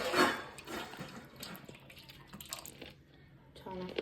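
Hot water poured into a bowl of cake batter for a homemade Christmas cake, a brief splashing pour heard up close, with some kitchen handling noise around it.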